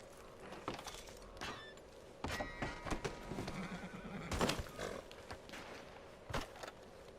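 A horse in the Red Dead Redemption 2 video game neighs and whinnies several times, with hoof clip-clops and scattered creaks, game ambience loud and close throughout.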